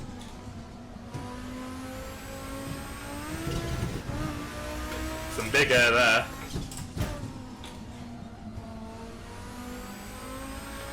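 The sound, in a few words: race car engine in video game Assetto Corsa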